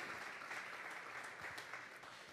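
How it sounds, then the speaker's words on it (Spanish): A church congregation at a Sunday morning service gives a sustained round of applause, heard as an even, fairly quiet wash of many hands clapping with no voices on top. "Vamos a darle un fuerte aplauso al Señor"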